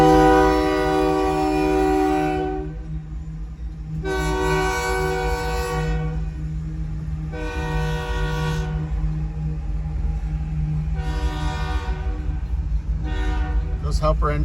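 A freight train with two helper locomotives at the rear rumbles past at close range while a horn sounds in long, loud blasts, the heavy engine drone continuing between them.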